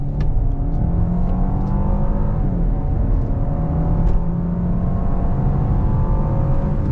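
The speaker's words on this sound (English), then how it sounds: "here we go through this U-turn area on throttle." A 2021 Genesis G80 Prestige with a twin-turbo V6 accelerates on throttle through a U-turn. The engine drone is steady and close, its tone climbing gradually, with no talking over it.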